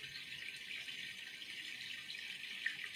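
Waterfall of pure, clear water in a forest, a steady hissing rush of flowing water that continues evenly throughout at a moderate distance, with no voices.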